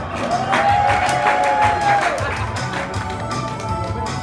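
Wedding guests applaud and cheer during a best man's speech, a steady crowd clatter that fills the room with a few voices mixed in.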